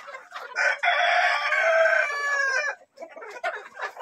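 Chickens kept for eggs cluck while a rooster lets out one long, loud crow up close, followed by a short stretch of softer clucking and farmyard noise.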